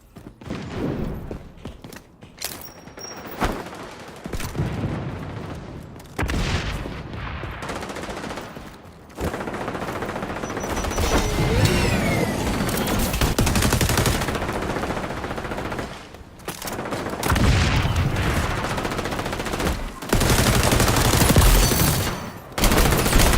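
Rapid bursts of video game gunfire, automatic weapon fire in dense volleys with short pauses between, loud and continuous through most of the stretch, with no talking.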